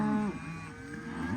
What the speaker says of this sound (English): She's a nice looking cow.